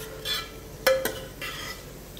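A spoon stirs chicken fry in a single pot, with a few scraping strokes and one sharp metallic clink near the middle, then a softer scrape, all close and unaccompanied by talk.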